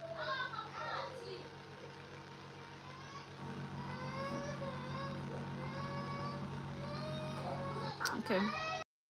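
A young girl screams and cries on purpose, her high, wavering wails repeating through most of the stretch against a steady low background hum, loud and close, ending in a sharp burst.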